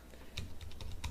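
Terminal command being typed on a computer keyboard, a quick run of close, crisp key clicks with uneven rhythm and no talking.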